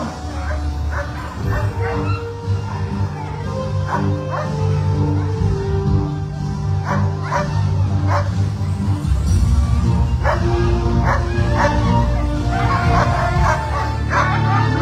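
Sled dogs bark and yip excitedly at the start of a mountain stage of a sled dog race at La Toussuire, a continuous chorus of overlapping barks, whimpers and howls with crowd noise and an announcer beneath.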